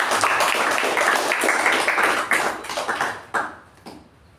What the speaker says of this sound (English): great round of applause for Toastmaster